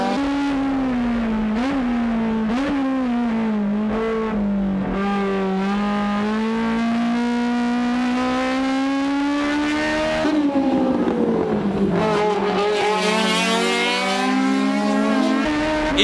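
Toyota AE86 race cars scream around Tsukuba circuit, loud high-revving engines rising and falling through gear changes for the whole stretch, with a second car's note joining later, no talk.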